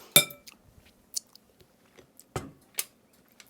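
Someone tasting ginger pound cake batter: a few close, distinct mouth and lip smacks and soft chewing clicks spaced across a quiet background.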